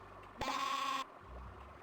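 A sheep bleats once in the Spy Fox video game, a clear nasal cartoonish bleat lasting about half a second over quiet background.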